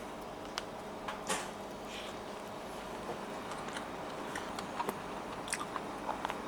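Someone bites into and chews a crispy homemade Japanese rice ball, producing a close crunch followed by scattered soft, wet chewing clicks over a quiet room background, with no talking.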